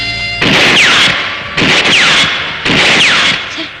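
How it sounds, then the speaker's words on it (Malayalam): Three bursts of rapid gunfire from a 1994 Malayalam action film, each volley loud and close, lasting about a second with brief pauses between them and no talk. "എല്ലാവർക്കും ക്രൂസിനെ പോലെ വെടിവെക്കാൻ പറ്റുമോ?"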